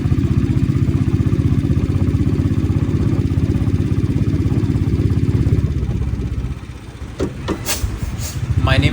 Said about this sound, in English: I ride a 1999 Royal Enfield Bullet 350 Deluxe